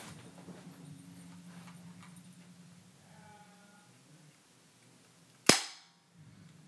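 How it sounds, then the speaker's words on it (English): A single sharp airsoft gun shot fired at a lump of dough, loud and close after a quiet stretch of low background hum and faint squeaks, followed by a brief decaying tail. "I'm gonna show you me shooting some doe with my airsoft gun."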